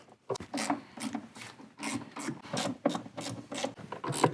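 Metal screws are driven into the plastic frame of a Bimmertech Alpha One subwoofer in a Mini Cooper, giving repeated close ratcheting, rubbing bursts in a steady rhythm with no talking.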